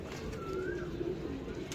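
A netted Boski-eyed Teddy pigeon gives a faint, low, drawn-out coo against a steady background hiss.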